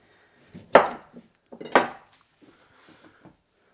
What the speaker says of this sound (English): I'll just cut them small enough that they fit through the tube.